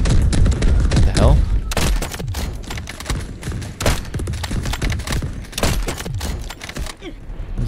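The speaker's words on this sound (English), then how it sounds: "Where's this shot coming from?" Rapid bursts of gunfire crackle through a firefight in the military shooter Delta Force Hawk Ops, with dense overlapping shots and thumps that keep coming steadily across the whole stretch.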